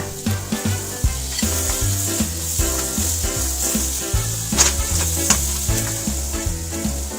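Plant-based imitation meat frying with golden garlic in a pan, loud close crackling sizzle with repeated scraping stirs and clanks of a utensil against the pan, no talking.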